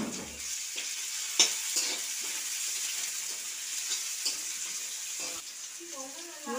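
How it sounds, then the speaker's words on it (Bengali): Onions frying in hot oil in a wok (kadai): a continuous close hiss of sizzling with occasional crackles and soft stirring scrapes, and a faint voice toward the end. "তেল দিয়ে পেঁয়াজ দিয়ে দিলাম"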